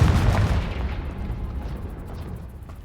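A Confringo fire spell detonates in Hogwarts Legacy, a loud booming blast up front that rumbles and fades away over a few seconds.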